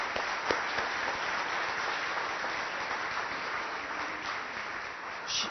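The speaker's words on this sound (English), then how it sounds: "can we give her a round of applause real quick, please?" Audience at a State of the City address applauding a staff member for her 12 years of service, an even, muffled stretch of clapping from a roomful of people, steady and moderately distant.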